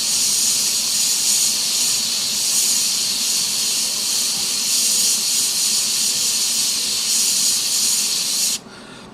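An airbrush sprays paint onto a Kharadron Overlords frigate model in a steady, loud, continuous hiss that cuts off abruptly near the end.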